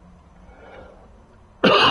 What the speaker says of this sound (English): And yes, the cough is still here.